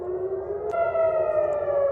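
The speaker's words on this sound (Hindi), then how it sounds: "सायरन बज रही है पूरे टेल अवीव में," A civil defense siren sounds loudly over Tel Aviv during a missile attack. It climbs in pitch partway through and then holds a sustained, droning wail that fills the whole stretch.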